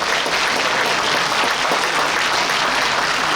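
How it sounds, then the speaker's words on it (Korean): An audience at a book launch event applauds in a dense, continuous ovation, loud and sustained with no breaks and no talking over it. "박수 보내주십시오"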